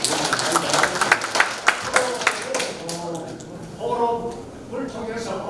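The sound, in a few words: audience applauding at forum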